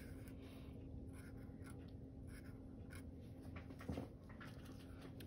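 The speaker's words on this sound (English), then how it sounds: "take your Sharpie and trace over all of your pencil lines" A Sharpie marker squeaks and scratches as it traces over pencil lines on paper, in short repeated strokes, close and quiet, with one brief louder knock near the end.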